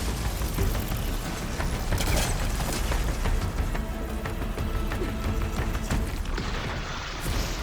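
Weapon reload in Horizon Forbidden West: rapid mechanical clicks and ratcheting snaps sit inside a dense, continuous wash of loud game noise for several seconds.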